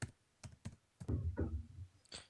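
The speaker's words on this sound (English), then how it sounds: "Furious typing." Quiet, rapid bursts of keystrokes on a computer keyboard, irregular clusters of taps and thumps during an online game of Cards Against Humanity.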